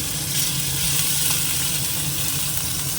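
Radhuni seeds and green chilies sizzle in hot oil in a frying pan, a loud, steady crackling hiss that runs unbroken for the whole stretch, with no voices.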